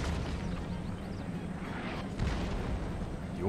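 Cannon artillery booms in Empire Total War during a Russian campaign battle, a few muffled blasts and rumbling impacts over steady battlefield noise, with no talk.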